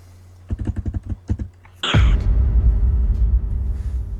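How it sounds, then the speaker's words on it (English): Typing on a computer keyboard: a quick run of separate key clicks for about a second and a half, then a louder burst of noise and a steady rumbling hum through the rest. "this companion bot knew what Luke was typing before he even sent the message"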